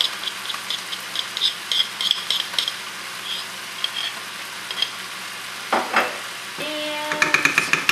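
A big dollop of peanut butter is stirred into egg roll filling in a pan, giving soft, repeated scraping and light clinks over a quiet sizzle. Louder utensil knocks and squeaks come toward the end.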